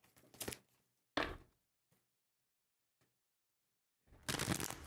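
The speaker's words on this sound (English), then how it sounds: "Shuffle these ones." Two quick bursts of tarot cards being shuffled, a riffle then a second flurry, followed by near silence with a faint tap, and a longer louder shuffle at the end.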